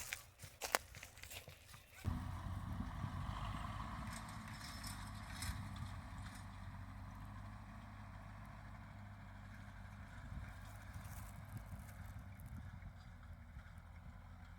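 Small farm tractor in a soybean field, its engine ticking over then driving with a steady low rumble after a sharp start around two seconds, running continuously and fairly close, with no speech.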